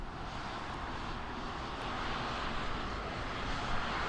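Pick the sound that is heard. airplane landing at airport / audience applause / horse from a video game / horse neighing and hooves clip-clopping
airplane landing at airport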